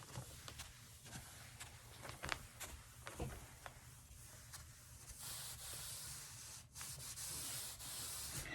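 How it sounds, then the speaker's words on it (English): Steel wool rubbed over ebonized wood in straight top-to-bottom strokes, a steady close scratchy hiss of repeated rubbing with a few sharper scrapes, louder and denser in the second half, no talking. "now we're going to go straight strokes from top to bottom, even out the scratching that the steel wool makes"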